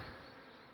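Honey bees in a hive exposed inside a chimney during a relocation, a steady close droning buzz that holds evenly throughout with no talking.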